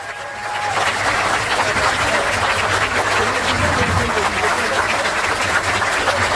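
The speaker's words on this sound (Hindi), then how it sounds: "ताली, जोर से ताली बजाइए।" A crowd at a Jan Suraaj political gathering in Bihar claps loudly and continuously, a thick wash of applause that holds steady for several seconds.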